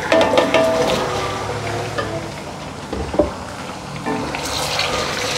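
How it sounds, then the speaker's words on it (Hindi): Chicken browning in hot oil with ginger-garlic paste for Delhi-style nihari, a steady wet sizzle with occasional clinks and scrapes of a spoon against the pot. "अब चिकन को हमने अच्छी तरह से भूनना है।"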